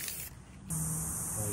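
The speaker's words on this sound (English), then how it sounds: "We can spray those air bubbles out, actually." A short spray nozzle hisses over paint dip to clear air bubbles, a brief burst early, then a steady close spray hiss that continues to the end.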